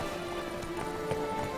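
A horse's hooves clip-clop in a steady trot in Witcher 3: Blood and Wine, a continuous run of soft hoofbeats with a faint tonal game hum underneath.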